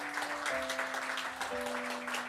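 A church congregation at a Sunday service claps steadily throughout to welcome new members, with a held keyboard tone beneath the dense applause.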